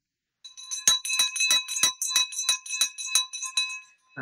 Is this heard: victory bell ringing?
yes